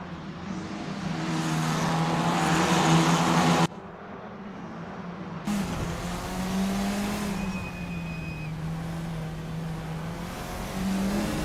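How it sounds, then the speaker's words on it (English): Several Formula 4 race cars in the Assetto Corsa racing game launch off the line at a race start at Adelaide, engines revving loudly and steadily with a brief cut partway through, then droning on at high pitch. "Greg Szabo nails the launch and holds onto the lead through the opening sequence"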